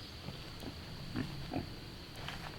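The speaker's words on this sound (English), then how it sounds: "Morning, pigs." Pigs grunting softly outdoors on a rainy farm morning near woods, a few short low grunts spread across a steady background hiss.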